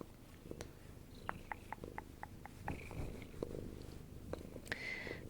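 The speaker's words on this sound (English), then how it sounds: "Give the denizens of this stream the gift of your purr" A cat purrs close to the microphone in a steady, low rumbling rhythm, with a series of small clicks and light taps scattered over the purring and no voices.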